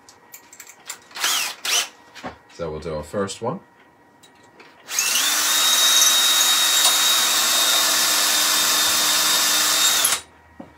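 A power drill drills a hole in wood for a Christmas pyramid, running steadily for about five seconds, loud and close, after a few spoken words.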